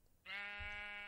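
A sheep in the Minecraft game with the Thaumcraft mod gives a single clear, sustained bleat, close and alone, starting abruptly after a brief quiet moment.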